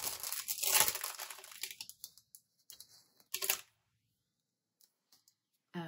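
A tape runner laying double-sided adhesive onto paper for a 12x12 scrapbook layout, with quick crinkling, clicking bursts up close in the first seconds, then near silence broken by a few faint ticks.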